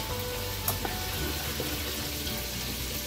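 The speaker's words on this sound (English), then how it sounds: "wait for your wings to fry" Chicken wings fry in a pot of oil with a steady, moderately loud sizzling hiss and a few faint pops, heard alone without any talking.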